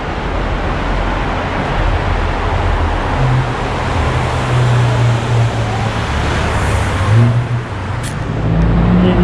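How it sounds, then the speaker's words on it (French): An old Porsche 911 arriving along a Monaco street, its engine note rising loud and close within dense surrounding traffic noise, continuous throughout with no speech. "Il y a une vieille 911 qui arrive."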